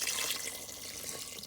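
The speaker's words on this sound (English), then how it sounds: "So let's add our water," Water added to lamb and potatoes in a pressure cooker for a Guyanese lamb curry, a continuous close hissing pour, fairly quiet and alone without talk.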